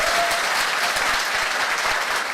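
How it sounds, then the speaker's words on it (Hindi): Dense, steady applause from a large audience at a motivational business gathering, continuous and loud throughout with no pauses. "ताली मर्दों वाली बजाइए"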